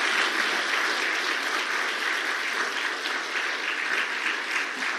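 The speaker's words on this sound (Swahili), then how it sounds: "Makofi mengi." Loud, sustained applause from a large audience at an official handover of a report to the President of Tanzania, dense clapping filling the whole stretch without pause.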